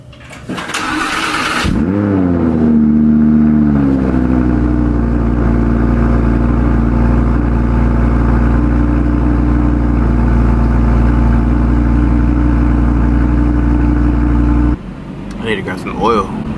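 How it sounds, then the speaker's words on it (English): Audi R8 V10 on its stock exhaust starts cold: a brief loud crank and catch, then a steady, close, loud idle that holds for many seconds before dropping off, with a voice briefly at the end. "Alright, it's gonna be the last cold start on the stock exhaust."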